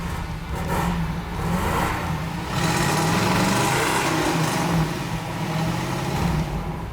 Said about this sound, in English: Let's hear this chambered exhaust.